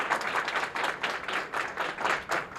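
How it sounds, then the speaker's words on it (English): Applause from a crowd, steady and moderately loud, many hands clapping together without pause. "give yourself a round of applause"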